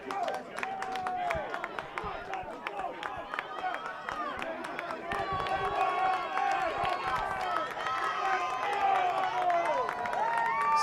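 A college rugby crowd at the NSCRO men's Champions Cup third-place final between Loyola and Salve Regina shouts, whistles and claps, many overlapping voices growing louder and more urgent as the cheering builds.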